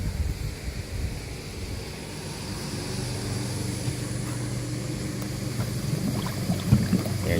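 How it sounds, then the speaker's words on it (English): An Intex pool sand filter pump priming as its valves are opened, a steady low rumbling whoosh of water and air flow with a faint hiss above it, constant and fairly loud with no talking. "let's go ahead and open the valves to prime the pump"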